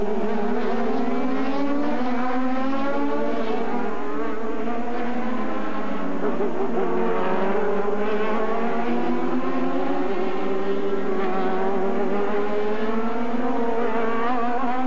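Formula Atlantic race cars run at the 1996 Molson Indy Toronto street circuit, their engines a steady high-pitched whine rising and falling as they pass, loud and continuous for the full stretch with no voices over it.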